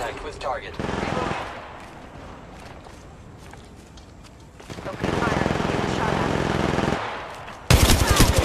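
Rapid bursts of automatic gunfire in the mobile shooter Apex Legends Mobile come in loud stretches with quieter gaps between them, and a sharp blast lands at the very end.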